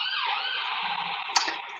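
An emergency siren wails in the background, a steady, moderately faint tone gliding through its pitch sweep, heard alone with no talk and a brief click near the end.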